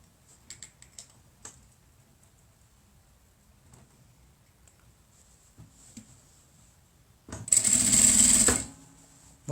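Sewing machine stitching along the edge of a small fabric bag, a single rapid mechanical whirring burst lasting about a second near the end, preceded by quiet handling clicks and near silence.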